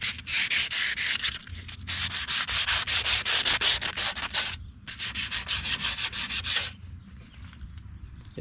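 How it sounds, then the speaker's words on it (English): Rhythmic back-and-forth rasping of wet sanding on a 1987 Yamaha FZR 1000 motorcycle panel, fast regular strokes in two bursts with a short pause between, close and loud. "wet down the panel you're wet sanding"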